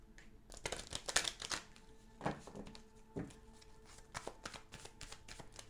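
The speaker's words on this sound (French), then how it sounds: "Je vais vous tirer les cartes de l'oracle Angel Answer" Angel Answer oracle cards are shuffled by hand in a quick run of riffling, flicking bursts, busy at first, then a few separate slaps and softer shuffles, close and fairly quiet with no talking.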